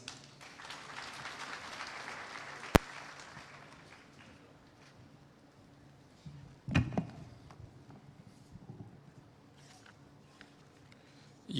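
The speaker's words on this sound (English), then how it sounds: "A round of applause, please." A crowd at an official event in Mombasa, Kenya, with the Deputy President present, claps in a round of applause that swells early then fades away, followed by scattered knocks and a sharp thump in a quieter room.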